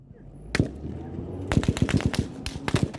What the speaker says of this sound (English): but another hail of gunfire erupts.